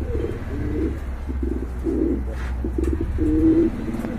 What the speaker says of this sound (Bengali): চমৎকার এক জোড়া কবুতর, দেখার মতো ভাই, দেখার মতো